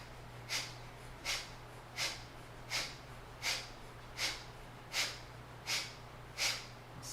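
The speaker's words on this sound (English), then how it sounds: "Skull shining breath, forceful exhales." Skull shining breath in a yoga class: forceful, sharp nasal exhales repeat at a steady pace, about one every three quarters of a second, each a short puff over a low background hum.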